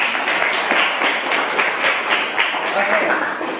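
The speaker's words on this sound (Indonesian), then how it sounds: "Untuk presentasinya kita berikan dulu tepuk tangan." Classroom applause after a student presentation: a dense, steady patter of many hands clapping through the whole stretch, fairly close, with no clear break.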